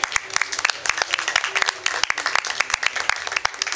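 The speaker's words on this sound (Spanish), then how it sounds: "pido un fuerte aplauso para él" At an outdoor literary reading in a rose garden, a modest audience claps for a writer, giving a fairly sparse, uneven patter of individual hand claps at moderate volume.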